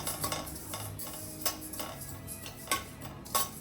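Poppy seeds are dry-fried in a pan while a spoon stirs them, giving quiet repeated scraping clinks over a faint steady sizzle, close and without talk.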